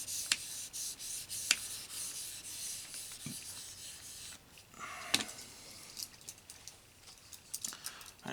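A knife blade is drawn across a stone on an EdgePro Apex sharpener in quiet, irregular scraping strokes, with faint clicks and taps between them.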